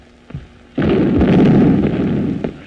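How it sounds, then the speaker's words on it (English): Field artillery fires in a 1931 romantic comedy film: a faint thud, then a sudden loud blast that rumbles on as a broad, sustained roar for nearly two seconds before fading. "The stupid field artillery."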